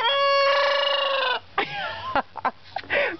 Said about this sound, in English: Best crow ever.